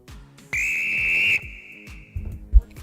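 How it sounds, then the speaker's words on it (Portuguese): Referee's whistle blown once at a Brazilian Série B football match between Náutico and Ponte Preta, a long loud shrill blast of under a second, with muffled commentary and stadium sound around it. "Olha o apito!"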